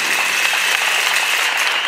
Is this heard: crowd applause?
yes